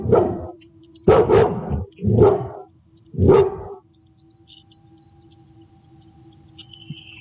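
A dog on security camera footage barks in four loud, close bursts over about four seconds, followed by quiet room hum and a faint high tone.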